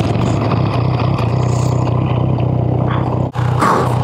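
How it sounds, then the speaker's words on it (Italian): Motorcycles on a Sardinian tour roar steadily as their engines fire back up, a loud continuous growl close by, with a brief dropout before the revving swells again as the bikes pull away. "Moto riaccese"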